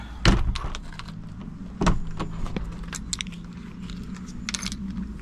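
Keys jangle and clink against a lock as a shed door is secured, two sharper metallic rattles standing out over quiet outdoor background noise.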